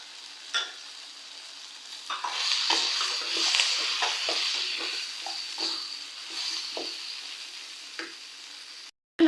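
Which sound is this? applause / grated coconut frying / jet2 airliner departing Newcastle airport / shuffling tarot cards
grated coconut frying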